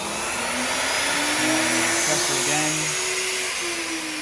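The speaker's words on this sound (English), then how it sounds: "test the spindle. And we're going to do that by pressing this button here, wait for it to come on, you'll hear it" A CNC router spindle spinning up and running, a steady loud whine with a slowly rising pitch, close by and continuous for a few seconds.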